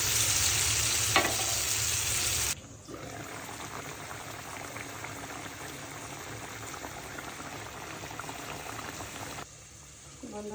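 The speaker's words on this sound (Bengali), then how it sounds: "এখন আমি রান্না করার জন্য ঝোল দিয়ে দিব।" Katla fish curry simmering in broth, made with plenty of onion, giving a soft steady bubbling and gentle sizzle that runs continuously and fairly quietly, with no talking over it.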